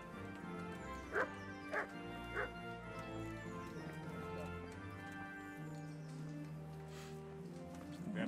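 A dog in the medieval video game Kingdom Come barks three times in quick succession, set against a continuous game soundscape of music and ambient background noise.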